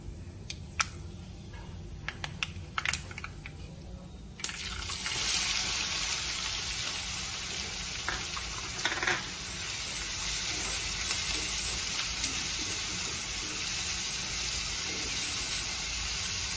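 Chopped onion dropped into hot oil already crackling with mustard seeds and cumin, a soft scattered sizzle that jumps to a steady, louder frying hiss partway through and holds there, with a few faint clicks.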